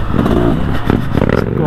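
A big adventure motorcycle engine drones loud and close on an enduro cross-country loop, rough and steady with clattering and wind buffeting, as a rider's voice talks over it.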